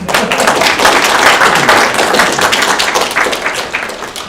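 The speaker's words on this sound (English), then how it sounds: "How about a round of applause for Francisco?" Applause at a school award presentation for an outstanding student, with a dense, steady crowd of clapping hands filling the room loudly for several seconds and no talking over it.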